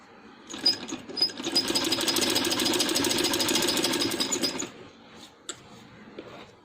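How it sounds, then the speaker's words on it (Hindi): A sewing machine runs steadily for about four seconds while stitching a dress, a fast, even mechanical whir up close, then stops, leaving a few faint clicks and handling noises. "यहाँ से हम इसको इसकी सिलाई करेंगे इसको।"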